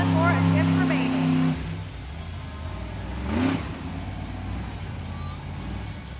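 A 12,000-pound Monster Jam truck in an arena event, its engine idling with a low steady rumble, then a sharp rev that swells and fades, with a crowd and an announcer's voice heard under and over the engine noise.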